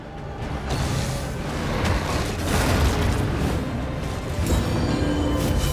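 A grenade blast in Darkest Dungeon 2 rolls out as a sustained, loud, rumbling boom with a whooshing crackle, swelling across several seconds and surging again near the end.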